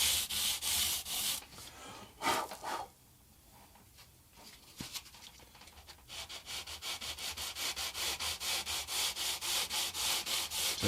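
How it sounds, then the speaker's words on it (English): Sandpaper is rubbed along the fret edges and fingerboard edge of a Squier guitar neck in quick, rhythmic back-and-forth strokes, close and clear, with a pause in the middle before the rapid regular strokes resume. "So it gets rid of all them sharp frets and rounds off the edge of the fingerboard"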